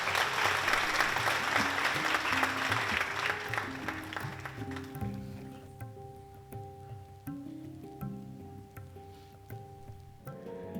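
Audience applause at an award ceremony, a dense burst of clapping that fades away over several seconds, leaving quiet tonal background sound underneath.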